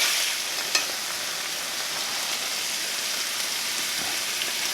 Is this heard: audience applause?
no